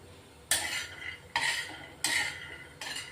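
Peanuts dry-roasting in a pan over a low gas flame are stirred in four distinct scraping sweeps, each a short, bright rattle against the metal, close and fairly quiet, with a low background hiss between strokes and no talk.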